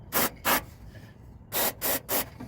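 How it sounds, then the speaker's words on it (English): Short hissing spray bursts from a can of cleaner aimed into the backup camera connector of a 2013 Ford F150 Lariat, two bursts, a pause, then three more, close and fairly loud. "Spray all that junk out."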